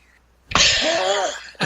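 A single loud, close sneeze bursts out after a moment of quiet.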